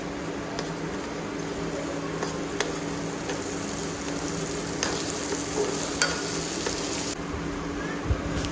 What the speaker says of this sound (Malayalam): ക്യാപ്സിക്കം, ഉള്ളി എല്ലാം കൂടി നന്നായി വഴറ്റി വരിക.